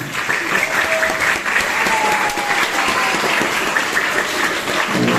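A loud, dense burst of audience applause fills a hall during a Ramadan kultum sermon by Ustadz Muhammad Subhan, with steady, sustained clapping throughout.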